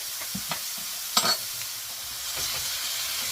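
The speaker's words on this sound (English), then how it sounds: "I'm going to add in that tablespoon of garlic." A tablespoon of garlic is dropped into sizzling pork fried rice and stirred, with a few sharp scraping knocks of the utensil over a steady frying hiss.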